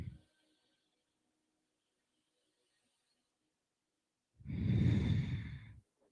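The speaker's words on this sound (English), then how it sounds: "Breathing in and breathing out." A person doing yoga takes a slow, audible breath in and out: a brief breath right at the start, near silence, then one long, loud, breathy exhale lasting over a second.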